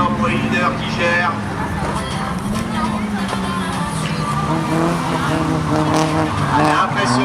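A Honda race car engine drones and revs during the Fol'Car Laon autocross race, a loud continuous motor note with tire noise, heard under a French commentator talking throughout.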